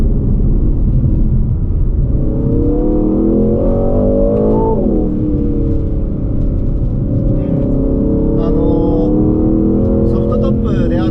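An Aston Martin Vantage Roadster, a soft-top, accelerating hard along a winding road, its engine note rising and falling through repeated upshifts, loud and close throughout, while someone talks over the engine.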